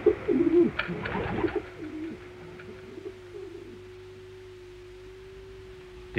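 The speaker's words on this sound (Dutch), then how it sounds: "Het is net of de duiven het ook al in de gaten hebben dat er wat gaat gebeuren." Pigeons cooing in a Dutch radio play, a few soft throaty coos near the start followed by a long steady low hum that carries on with no talking.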